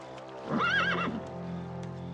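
A single loud, wavering horse neigh rises and falls for about half a second, followed by a low steady hum.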